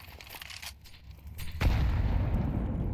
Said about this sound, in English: Whoa, massive nade.